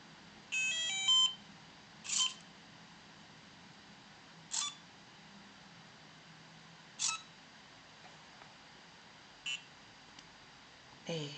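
An AI cube device plays a melody on its own once started, with a quick run of electronic beeping notes followed by short tonal bursts spaced a couple of seconds apart, clear against a quiet background.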